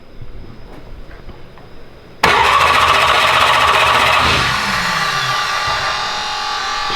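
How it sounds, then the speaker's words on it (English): Engine with its coils disconnected turns over on the starter motor without firing, a loud, sudden, steady whirring crank that starts abruptly after a quiet, near-silent lead-in and holds evenly to the end. "I'm gonna bump the starter."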